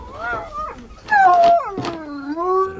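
A dog howls and whimpers in rising and falling wavering tones, fairly close, with a few quieter breaks between the drawn-out cries.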